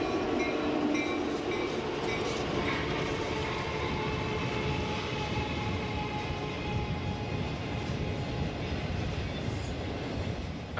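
FP45 locomotive hauling a train downgrade on the Elk Valley line in snow, a steady rumbling roar of wheels and engine with faint clickety-clack, continuous and fairly close throughout.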